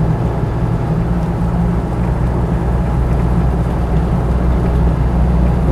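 A Land Rover 90 2.5TD seven-seater drives along, its diesel engine and road rumble forming a loud, steady low drone with no break and no talking.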